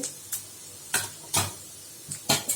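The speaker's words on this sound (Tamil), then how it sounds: "தாளிச்சிடலாம் இப்போ இதுக்கு வந்து வெந்தயம் சீரகம்" Mustard, fenugreek and cumin seeds tempering in hot oil, heard as short bursts of sizzling and crackling with stirring and pan clatter, several separate spurts at close range and no voices.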